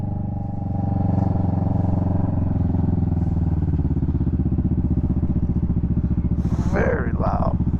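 A 2021 Kawasaki Vulcan S motorcycle with a very loud exhaust drones steadily while riding, a dense low engine rumble throughout, with a voice briefly speaking near the end.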